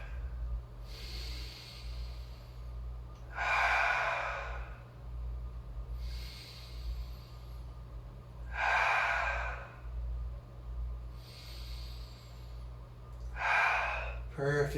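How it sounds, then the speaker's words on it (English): Three slow, deep breaths during a yoga session, each a soft drawn inhale followed by a louder, rushing exhale, spaced evenly about five seconds apart over a steady low hum. "Take 3 deep breaths here"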